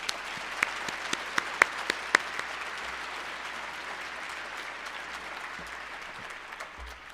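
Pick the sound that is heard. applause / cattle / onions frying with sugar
applause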